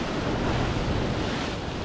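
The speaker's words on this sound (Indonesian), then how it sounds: "Gila ombaknya teman-teman." Heavy surf pounds the shore at Nusakambangan island, a dense, continuous wash of crashing waves with deep rumble and gusty wind noise on the mic, close and loud with no break.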